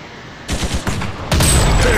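Rapid bursts of gunfire from a mobile gun-shooting video game, a few sharp volleys building into a loud sustained fusillade near the end, with no talk.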